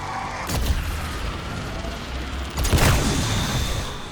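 Charged shots from the BlunderGat in a video game boom out as two heavy, loud blasts a couple of seconds apart, each with a rumbling tail.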